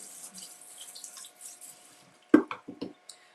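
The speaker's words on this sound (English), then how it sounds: "Okay, I'll rinse it." A can is rinsed under a running kitchen tap: after a quiet stretch, a few close, splashy bursts of water hit the metal.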